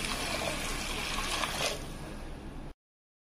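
A glass of water poured into a cooking pot of dill greens and lentils, a steady close splashing pour for under two seconds that thins to a lighter trickle before stopping.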